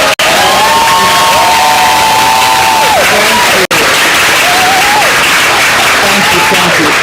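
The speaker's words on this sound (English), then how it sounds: "I want all the student preachers in the room to stand up so we can applaud their effort today." Loud applause and cheering from a large crowd, with shouts and whoops rising over continuous clapping.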